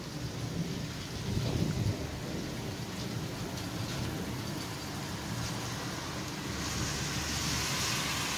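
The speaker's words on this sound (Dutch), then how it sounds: "ik kan met de tijd niet heugen dat we zoveel onweer hebben gehad op één plek." A summer thunderstorm in June pours steady rain on surfaces while rolling thunder rumbles low beneath it, one louder swell early on, the downpour dense and continuous without voices.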